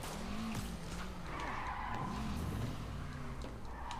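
Tires squeal as a car skids during a chase in the Marvel's Spider-Man video game, with wavering screeches over a continuous engine roar and road noise.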